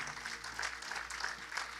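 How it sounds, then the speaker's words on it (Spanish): Church congregation applauding during a service, a steady, moderately loud patter of many hands clapping for a couple of seconds with no voices over it. "Di amén y dale un aplauso al Señor."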